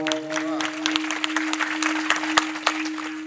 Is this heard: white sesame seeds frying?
no